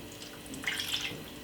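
Water is poured into the bottom of a roasting tin that holds turkey juices, a short, faint splash and trickle lasting about a second in a quiet kitchen.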